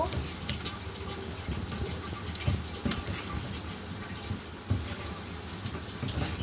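Water poured into a spice mix to form a paste, a continuous nearby trickling flow with a couple of small clinks from the bowl.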